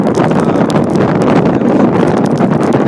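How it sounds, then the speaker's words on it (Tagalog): Strong typhoon wind in Japan roars continuously, buffeting the microphone with a dense, rumbling rush and no letup. "Sobrang lakas po ng hangin"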